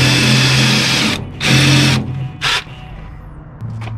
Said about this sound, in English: These are just pilot holes to start the 3/8 inch drill bit.